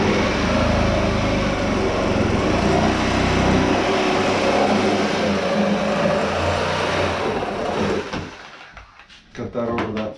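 A power saw cuts steadily into a rotten particle board subfloor, a loud continuous whine and grind that stops near the end, leaving a few brief knocks.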